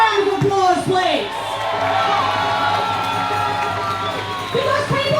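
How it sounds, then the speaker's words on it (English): A protest march crowd in Sydney cheers and whoops over a steady murmur of many voices, with loud shouts early on and a sustained outdoor roar. "Can you give them a round of applause, please?"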